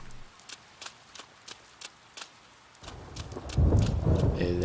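Video game rain and thunder: steady rain hiss carries rhythmic thudding, like hoofbeats, before a deep rumble of thunder swells and grows loud near the end.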